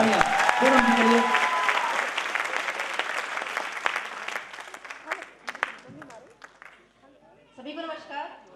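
Applause for Poonam ji at a Republic Day leaders' celebration on 26 January: loud, dense clapping from a crowd seated above and below fades out over several seconds, and scattered voices come through near the end.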